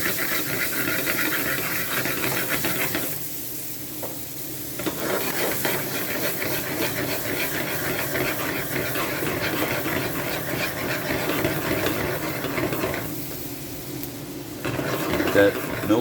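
Garlic and butter hiss and sizzle steadily in a hot pan, a close continuous crackle with stirring, running under occasional talk.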